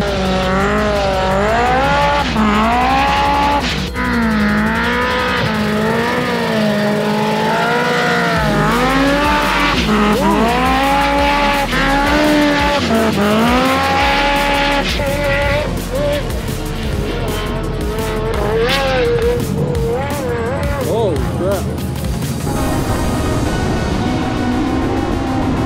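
A drag race car launches at a drag strip event, its engine roaring loud and close with rising and falling revs and a squeal of tires as it charges down the track. Voices talk underneath.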